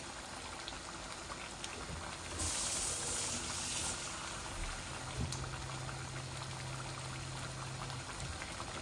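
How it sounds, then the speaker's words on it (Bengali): Chicken curry (kosha) simmers in a pan with a steady bubbling boil, and a short splashy pour of about half a glass of water is added partway through, with no talking. "আমি হাফ গ্লাস পানি দেব"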